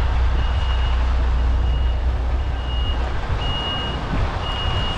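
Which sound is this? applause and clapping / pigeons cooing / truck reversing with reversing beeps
truck reversing with reversing beeps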